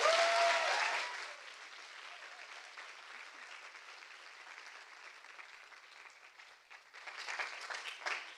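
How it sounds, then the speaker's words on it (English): Audience applause at an innovation event finale, a loud burst of clapping that settles into softer scattered claps, then swells again toward the end. "So please join me in a round of applause."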